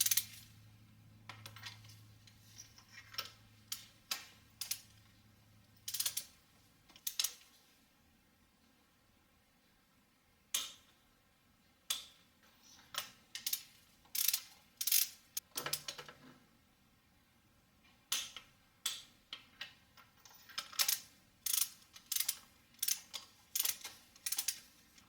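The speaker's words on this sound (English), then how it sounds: "tighten the spark plugs in there and torque it down to a 14 foot-pound" Rapid ratchet-like clicks in scattered bursts, close and crisp over a faint low hum, as spark plugs are tightened and torqued to 14 foot-pounds on a 2007 Toyota Highlander Hybrid engine.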